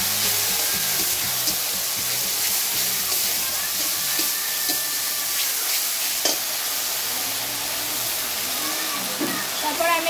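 A ground ginger and cumin paste fries in a pan while being stirred for a vegetarian shukto, making a continuous broadband sizzle with occasional scraping knocks and faint clicks throughout.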